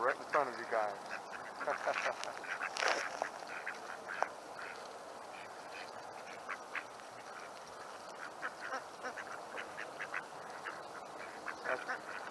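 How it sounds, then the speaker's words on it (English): A duck quacks repeatedly in short, lively bursts, close and fairly loud, with people talking and other animal sounds mixed in around it. "That's Mindy quacking"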